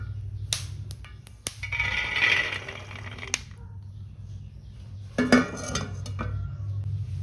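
Roasted peanuts tipped from a pan onto a plate, scattered clinks and a rattling pour of nuts against metal and ceramic, close, over a steady low kitchen hum.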